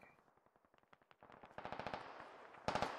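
Rapid bursts of automatic gunfire in a Squad video game battle, sharp cracks in quick rhythmic strings that grow louder and denser, with a heavy close burst near the end.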